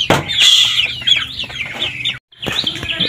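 Chickens and chicks cluck and cheep up close on a family farm that also raises ducks, a busy cluster of bright, overlapping calls with a brief silent gap before the chirping resumes.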